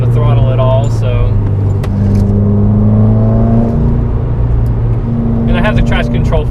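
A 2015 Subaru WRX driving on a road, engine drone shifting pitch as it pulls through the gears with a steady cabin rumble and whir, loud and close from inside the car.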